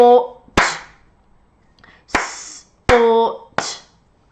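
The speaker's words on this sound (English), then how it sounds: "If you can click your fingers, or if you can't, you clap the sound" A few sharp, separated claps or finger clicks from children sounding out a word in a phonics lesson, interleaved with spoken voices between the hits.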